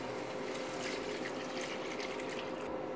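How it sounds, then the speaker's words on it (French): Water pours steadily into a soup pot of split peas for Potage Saint-Germain, a continuous close gushing splash with no pauses and no talking. "vous allez commencer à mettre 2 litres d'eau"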